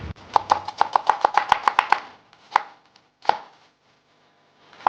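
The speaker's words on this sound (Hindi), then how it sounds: "एक प्याज 125 ग्राम, इसे इस तरह बहुत बारीक काट लेंगे।" A knife finely chops a 125-gram onion on a board in a rapid run of crisp, close taps, slowing to a few scattered strikes and then falling quiet.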